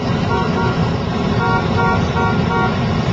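A steady car horn blares continuously and loudly over road noise, with no break in the sound.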